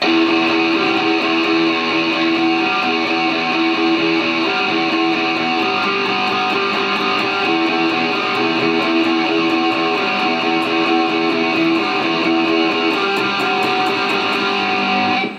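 An electric guitar rings out unmuted with sustained, distorted notes that blend into a dense, steady wash, played loud and without pauses, no voices.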